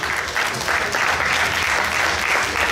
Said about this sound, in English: Gentlemen, round of applause for yourself.